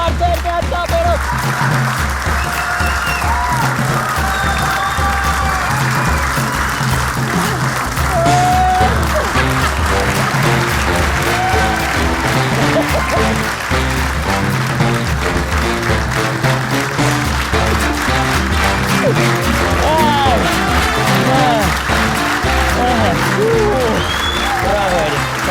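Sustained applause from a large audience greeting a singer at an evening show, dense and steady throughout with music playing underneath and brief voices mixed in.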